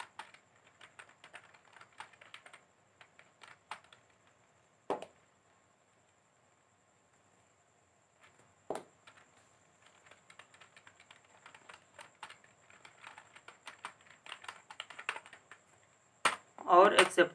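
Fingers type on a computer keyboard in quick, irregular bursts of light clicks and occasional louder key strikes, with pauses between runs and a closing burst of rapid keystrokes.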